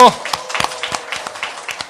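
A talk show studio audience claps to open the broadcast, with a brief voice at the start and then a run of distinct, close handclaps that stay uneven and sparse.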